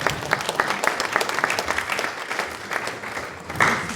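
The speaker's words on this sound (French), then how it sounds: "On peut applaudir, Jean-Philippe." Audience applause at the launch of a strategic conference event, a full crowd clapping steadily and fairly close for a few seconds with a brief swell near the end.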